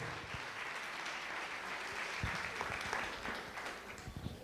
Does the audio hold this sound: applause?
yes